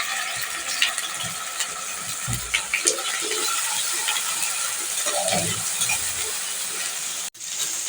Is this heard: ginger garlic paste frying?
yes